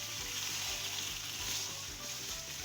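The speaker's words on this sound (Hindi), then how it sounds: "उसको हम अच्छी तरह भून लेंगे। अब ये हमारा जो हलवा है ये बिल्कुल अच्छी तरह से भुन गया है।" Dry-date halwa roasting in a pan, sizzling and frying steadily and fairly close throughout, with a faint rhythmic stirring texture underneath and no talk.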